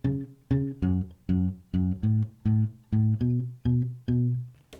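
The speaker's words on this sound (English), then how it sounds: "So the first one is the bass riff," An acoustic guitar with a capo plays the looping bass riff of a song on the low strings, a quick bouncing pattern of about a dozen plucked notes played clearly with no talking.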